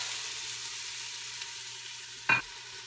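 Diced potato and baby carrots sautéing in a pot for butternut squash soup make a soft, steady sizzle with a single sharp clatter near the end.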